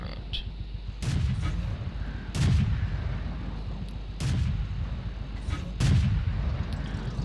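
Heavy tank cannon shots boom out in World of Tanks, four big blasts spaced about every one to two seconds over a steady engine rumble, with no talking.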